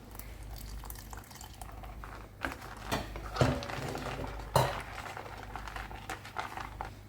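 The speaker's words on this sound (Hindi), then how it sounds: "ग्रेवी आपको गाढ़ा या पतला चाहिए ना, उस हिसाब से आप पानी ऐड करें।" Water is added to a pan of clam masala curry gravy, with a few soft splashing pours and liquid patter close by over a low background hum, no talking.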